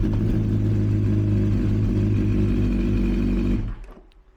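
A motorbike engine idling in neutral with the radiator cap off to circulate antifreeze, a steady close rumbling throb that runs evenly for a few seconds and then cuts off as the engine is switched off.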